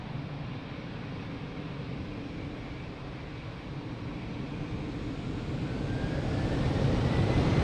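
An airliner rolls for takeoff at Lisbon Airport, a broad, steady engine roar that swells gradually louder toward the end, heard from a distance with no voices.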